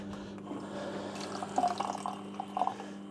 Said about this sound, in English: So we'll just do a quick wash.